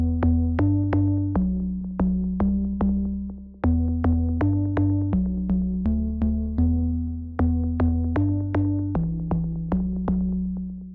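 Plug Glow synth plugin with an old school character plays a repeating, plucky melodic pattern of short, evenly spaced notes over a sustained low bass line, loud and alone with no voices.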